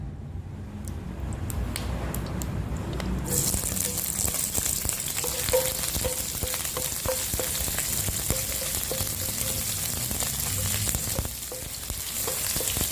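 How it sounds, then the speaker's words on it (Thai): Slices of pork belly render their fat in a hot pan for a Vietnamese stir-fry with winter melon, giving a loud, steady sizzle and crackle with scattered sharp pops and spatters throughout, no voices. "เดี๋ยวแม่ทีนจะมารวน สามชั้นให้ออกมันก่อนนะคะ"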